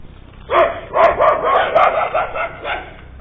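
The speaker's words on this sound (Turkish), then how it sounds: "Kavga çıktı vay öldürecekler lan köpeği." Dogs snarl and bark in a rough, tangled scuffle, several overlapping growling yelps close by, sounding muffled and thin.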